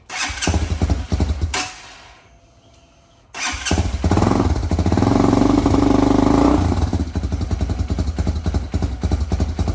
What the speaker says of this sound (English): that sounds really good for a first startup